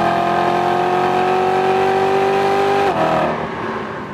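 A BMW M3 in Bavaria, switched into M mode, holds a loud, sustained engine rev with a clear tonal whine that climbs slightly, then drops sharply as the throttle is released and the note fades.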